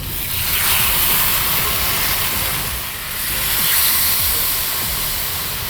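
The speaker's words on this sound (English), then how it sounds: "Now when your pan's nice and hot, just grab a hold of one of those hunks of steak and let's get them sizzling." Hunks of soy and sugar marinated steak sizzle in a hot pan, a broad, steady hiss that swells and dips slightly, with faint low crackles underneath.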